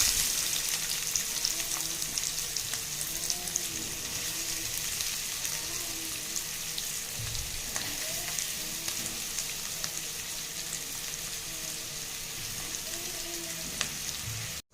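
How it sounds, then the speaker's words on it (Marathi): Finely chopped onions fry in hot oil for a fish roe (gaboli) fry, making an unbroken, loud sizzling crackle close by, with a soft thud midway and the sizzle cutting off abruptly at the end. "तेल आपलं तापलेलं आहे, तर हे कांदे आपण ह्याच्यात टाकूया।"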